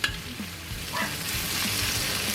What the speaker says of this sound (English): Okay, stir fry that around.